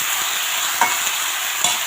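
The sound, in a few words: washed bottle gourd added to pan and stirred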